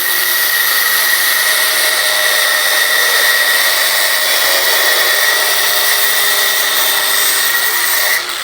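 Fuyaon brushless angle grinder cutting through iron, a steady high-pitched whine with a dense metallic screech that holds continuously at close range and cuts off right at the end.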